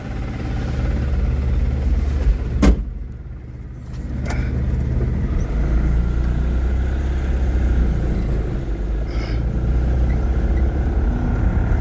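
Unloaded transport truck rolling along the road toward a roadside stop, a steady loud engine drone and road rumble running throughout, with a couple of brief sharp knocks early on.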